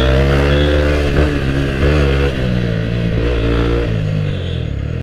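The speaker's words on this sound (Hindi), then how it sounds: "ये चेक करो भाई साहब, अपाचे की अल्टीमेट पावर भाई, अपने फुल थ्रोटल पे किसी भी बाइक को पीछे छोड़ने के लिए रेडी" A TVS Apache motorcycle revs hard at full throttle, a loud, steady, close engine roar with its pitch climbing and falling across several throttle pulls, cutting off abruptly at the end.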